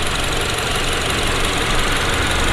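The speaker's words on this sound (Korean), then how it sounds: "엔진 소리 일정합니다." Third-generation Mini Cooper S engine running steadily in its open engine bay, heard up close as an even, continuous mechanical hum and whir with a bright upper hiss, no pauses or revs, and no talking over it.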